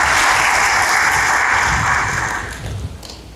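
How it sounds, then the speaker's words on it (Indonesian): Congregation applause during a church sermon, with dense clapping that starts at full strength and fades out over the last second. "Berikan tepuk tangan bagi dia."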